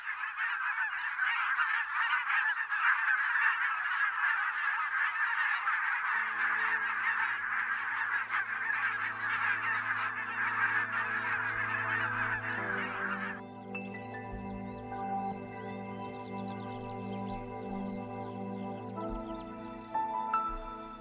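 A flock of migrating geese honks continuously and loudly for the first half, then the calls fade under a swelling orchestral music bed with no talking.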